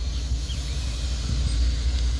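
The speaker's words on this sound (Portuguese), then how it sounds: "Lá vem o trem, galerinha." A locomotive passes nearby as a steady low rumble with a faint hiss, continuous and fairly loud with no voices.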